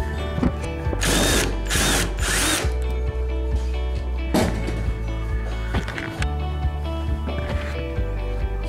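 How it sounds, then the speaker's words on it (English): A power drill runs in loud bursts while removing a bolt from a bathroom vanity during installation, with several long whirring runs and ratcheting clicks, close and alone without talk. "Now I can take the bolt from here."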